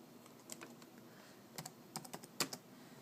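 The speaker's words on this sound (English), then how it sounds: "Antonio, I'm trying to hold this and type at the same time" Typing on a computer keyboard: a few scattered, quiet key clicks, then a quick cluster of keystrokes toward the end, close but soft against a faint room hum.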